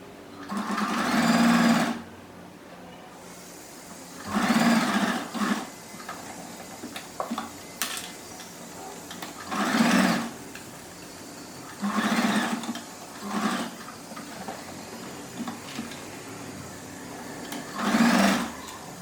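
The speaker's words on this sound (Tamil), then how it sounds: "இப்போ நம்ம இதை வந்து ஃபுல்லாக நம்ம தைக்கணும்." A sewing machine stitching fabric for a bangle organiser, running in several loud whirring bursts separated by short pauses, with no voices.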